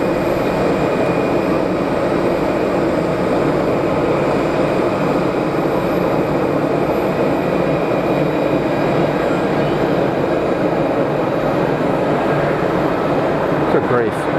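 A Swiss Airbus A220 at Geneva Airport produces a loud, steady engine roar that holds evenly from start to finish.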